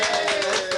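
Dense, steady clapping from a group at an amateur radio balloon recovery gathering, a continuous patter of many hands filling the short moment with a steady tone running underneath.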